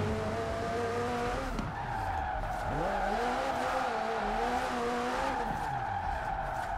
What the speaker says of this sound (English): it is roasting tires